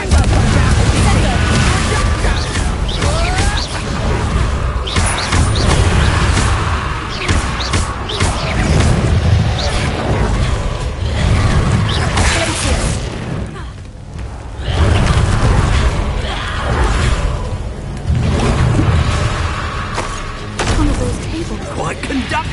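Confringo fire-spell explosions in Hogwarts Legacy combat: a dense, loud barrage of booms, crashes and thuds with barely a pause, voices speaking over the fight.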